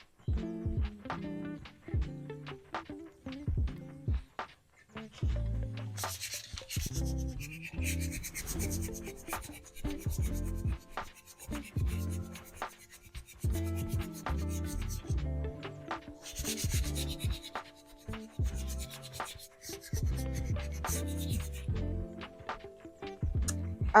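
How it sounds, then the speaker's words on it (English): A wooden rolling pin being hand-sanded up close, with a steady run of rasping, scratchy rubbing strokes in quick repeated rhythm and brief pauses between passes. "I finished sanding the rolling pin."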